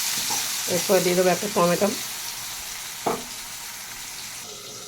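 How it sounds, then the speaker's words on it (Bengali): Potatoes and chopped onion frying in a pan, a steady close sizzle running beneath a voice speaking, with a brief clink partway through. "আলুগুলোকে বেশ একটু ভালো করে ভেজে নেবো"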